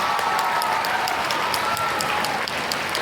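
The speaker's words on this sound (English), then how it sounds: "give yourselves a round of applause for being an incredible audience" A live audience at a touring Q&A event gives a full round of applause, many hands clapping in a thick, sustained roar that holds steady and loud, with a few sharper claps standing out near the front.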